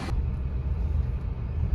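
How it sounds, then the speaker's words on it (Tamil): Road traffic in Bangalore rumbles as a dense, continuous low drone of vehicle engines, loud and steady throughout. "பாருங்க சரியான டிராஃபிக்ல வந்து மாட்டிக்கிட்டோம் நினைக்கிறேன்"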